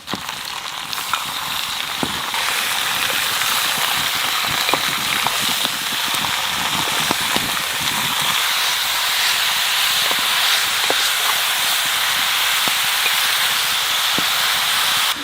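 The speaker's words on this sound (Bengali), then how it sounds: "এই পেঁয়াজের সাথে মাংসটাকে ভাজবো যতক্ষণ না একদম সাদা হয়ে যাবে" Meat frying with onions in a pan while being cooked for a mutton gravy: a steady, loud broadband sizzle and hiss runs throughout, with scattered small pops and crackles and no talking.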